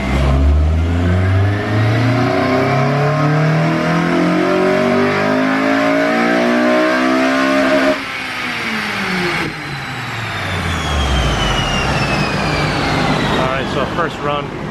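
A Honda Civic Si Mugen engine revs on a dyno, climbing in pitch and holding loud at full throttle before dropping off and winding down, with a voice speaking near the end.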